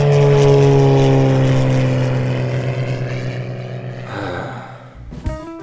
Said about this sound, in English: Hey, Mario, you see the airplane?